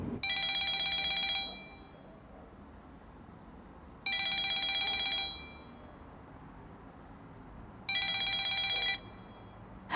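A telephone rings indoors in three bright, trilling bursts of about a second each, separated by short quiet gaps, with no one talking.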